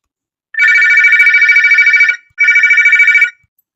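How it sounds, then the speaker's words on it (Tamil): A telephone rings twice in a steady electronic trill, close and loud, each ring cut off by a short pause, with no one answering and no voices. "சார், ரிங் போயிட்டே இருக்கு, யாருமே அட்டன் பண்ணல"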